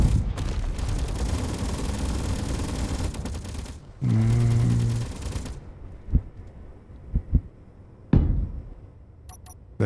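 Rapid automatic gunfire in the video game Space Engineers rattles in sustained bursts, then breaks off into a short mechanical hum and scattered sharp impacts with quiet gaps between them.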